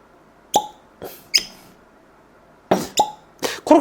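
A cork pulled from a Wild Turkey 101 bourbon bottle makes a few sharp hollow pops and squeaks, close and fairly loud, spread across a few seconds, with brief quiet gaps between them.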